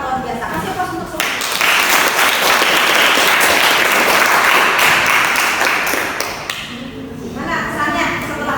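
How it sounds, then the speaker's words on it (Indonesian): A classroom of students applauds all the presenting groups, a loud, steady wash of clapping lasting several seconds close by, with a teacher's voice heard before and after and some thumps mixed in. "Pokoknya semua kelompok hebat luar biasa. Kasih aplaus untuk semua."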